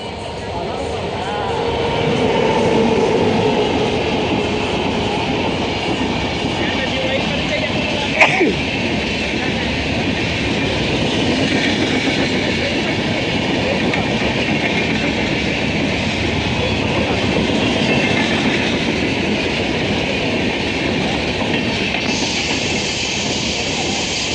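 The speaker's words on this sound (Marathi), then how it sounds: "ट्रेन येईल शेवटी तुतारी एक्सप्रेस" The Tutari Express rolls into a railway station with a steady, loud rumble of wheels and carriages that holds throughout, with a brief sharp clank partway through and faint voices in the background.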